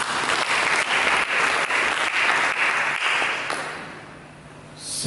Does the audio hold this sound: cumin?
no